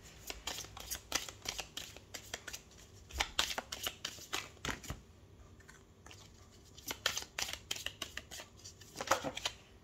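Tarot cards being shuffled close by in steady, crisp riffling bursts with brief pauses between passes, no voices.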